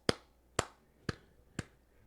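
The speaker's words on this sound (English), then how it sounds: "these are my claps" Four sharp hand claps land at an even, steady pulse about half a second apart, marking quarter-note beats in 4/4 time; each is crisp and close, with quiet between them.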